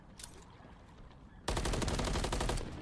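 Sustained rapid gunfire in a competitive Call of Duty League match bursts in suddenly and loudly after a quieter stretch of distant shots, continuing to the end.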